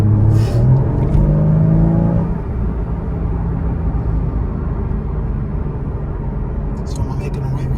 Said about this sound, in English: For the engine being actually in the compartment with you, it's not very loud.